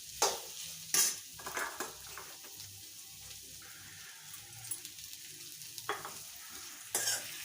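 Fenugreek seeds being dry-roasted and stirred in a pan for ladoos with jaggery, giving sharp scraping spoon strokes at irregular intervals over a soft, steady sizzle.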